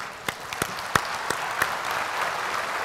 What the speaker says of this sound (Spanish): le pido un fuerte aplauso